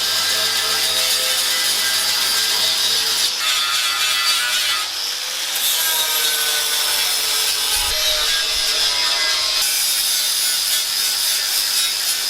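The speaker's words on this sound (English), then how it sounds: "I'll just flat that off with a flap disc" A flap disc grinds down a weld on an alloy wheel, giving a loud, continuous abrasive rasp with bright high-pitched overtones and brief dips in pitch as the disc is pressed and eased, running steadily with no talk.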